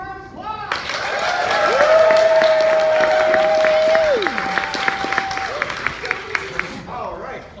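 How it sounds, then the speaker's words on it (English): A crowd at a college improv comedy show breaks into loud, sustained clapping and cheering for the team, with a whistle rising over it before the applause fades into scattered claps and voices. "Give them a round of applause."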